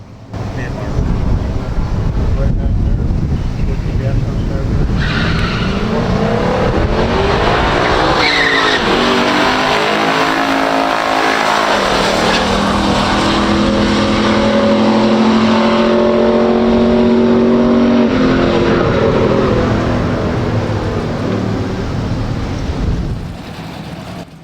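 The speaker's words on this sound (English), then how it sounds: "Let's check out that race one more time because it looked like the Judge was having some issues getting traction while launching" A 1969 COPO Camaro 427 and a 1969 Pontiac GTO Judge launch side by side in a pure stock drag race, V8 engines roaring loud with tire squeal and spinning wheels, revs climbing through gear changes as a voice comments over them.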